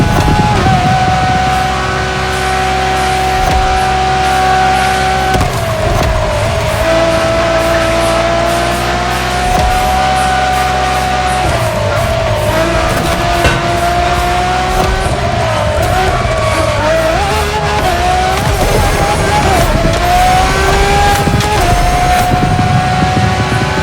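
Ferrari LaFerrari supercar engine in the racing game The Crew Motorfest, a loud sustained drone with shifting pitch as it revs and accelerates, with occasional tire squeal, steady throughout with no talk.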